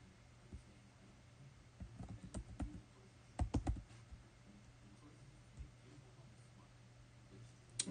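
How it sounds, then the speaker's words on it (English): Keys on a keyboard are tapped in sparse clusters of soft, close clicks over a quiet steady hum, with a brief flurry of faster taps near the middle. "I'm typing a message."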